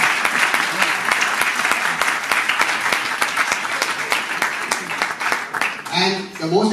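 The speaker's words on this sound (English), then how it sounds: "I want all of you all to give a big round of applause for these two individuals" Steady applause from an audience at a Mumbai festival announcement event, a close crowd clapping with some sharp individual claps, fading as a voice begins speaking at the end.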